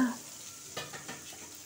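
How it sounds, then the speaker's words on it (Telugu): Green chillies frying in a pan on the stove, with a soft, faint sizzle and a few quick spoon stirs scraping the pan, close up and without talk. "ఇప్పుడు ఇందులో పచ్చిమిరపకాయలు వేస్తాను."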